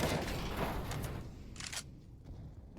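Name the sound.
gunfire in Counter-Strike video game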